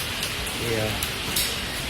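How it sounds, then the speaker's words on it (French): Rain falls on a street in Itaewon, Seoul, producing a steady broadband hiss that runs through the whole two seconds, with faint voices or street sounds blended underneath. "Il pleut, je sais pas si vous m'entendez bien"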